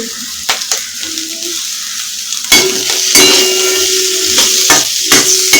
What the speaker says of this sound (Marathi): पाच मिनिट परतून घ्यायचं आहे